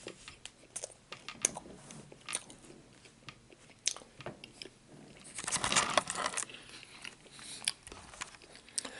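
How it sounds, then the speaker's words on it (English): Caramel-filled pretzel bites are bitten and chewed close to the microphone, giving repeated crisp crunches and wet chewing, with a denser burst of crunching partway through. "Watch me chow down on these pretzel bits. Got caramel in them."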